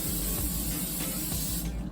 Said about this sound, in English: I'm just gonna spray the pan.